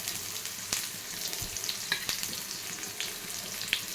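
Thinly sliced onions and cumin frying in hot oil: a steady, close sizzle and crackle with occasional sharper pops and stirring clicks throughout, with no talking.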